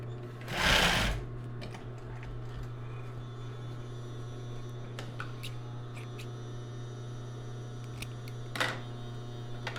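A sewing machine runs while stitching fabric for a topper, making a steady, close motor hum with a brief louder rattling burst near the start and light clicks later.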